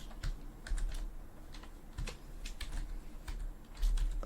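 Code is typed on a computer keyboard in quick, irregular clusters of soft clicky keystrokes, close and fairly quiet, with short pauses between bursts.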